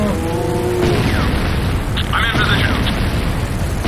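A structure blowing up in the video game Renegade: a loud, rumbling explosion boom that fills the clip, with a synthetic announcer voice speaking over it.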